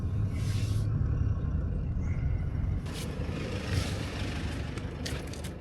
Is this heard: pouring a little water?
no